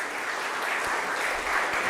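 At a biotech skilling programme session, an audience claps for a speaker, producing a brief, steady wash of applause from a large room with no break in it.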